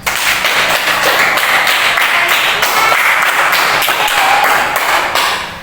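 Classroom of pupils applauding together, loud dense clapping with a faint rhythmic pulse that holds steady for several seconds before tapering at the end.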